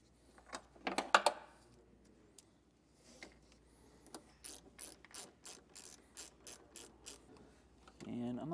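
A ratchet wrench clicks in short bursts while a nut is tightened onto a ring terminal during a hidden trailer hitch wiring install, with faint metallic handling sounds first and a rhythmic run of close ratchet clicks later.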